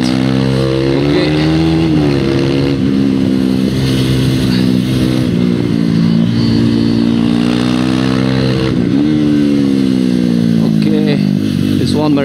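A KTM RC 390 sport bike is ridden hard around a race track, its single-cylinder engine revving loud and close throughout, pitch rising and falling through throttle and braking, with a rider's voice over it.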